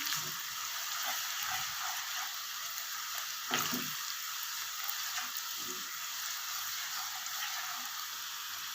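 Chana dal being fried in a pot, dhaba style, gives a constant moderate sizzle with occasional soft scraping stirs and light clinks, no speech.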